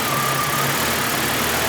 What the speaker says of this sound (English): Chrysler stuff with a weak battery won't idle.